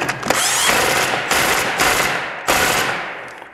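An impact wrench hammering a 17 mm bolt on a clutch job in two loud rattling bursts, the first long and the second shorter, close up with no talk.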